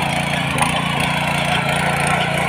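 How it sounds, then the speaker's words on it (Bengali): A mini power tiller hand tractor engine runs steadily and loud throughout, a continuous buzzing drone with no pauses or changes in pace. "Power tiller hand tractor."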